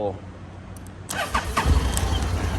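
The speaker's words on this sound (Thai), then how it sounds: "เดี๋ยวลองสตาร์ทให้ฟังเสียงเครื่องยนต์กันดู" A 2017 Honda X-ADV motor scooter with about 16,300 km cranks and catches after a quiet moment, then settles into a steady low idle.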